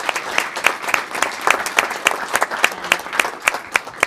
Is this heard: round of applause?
yes